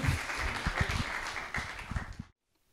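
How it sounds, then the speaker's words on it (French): Audience applause at a roundtable panel on corporate social responsibility, dense steady clapping that stops abruptly near the end, leaving near silence. "On applaudit, on remercie chaleureusement nos participants"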